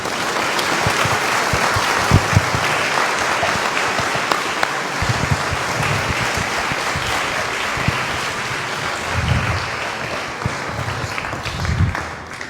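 A crowd at a gathering in San Miguel Escobar, Guatemala, gives dense, sustained applause after a speech, loud and steady throughout with a few low thumps underneath.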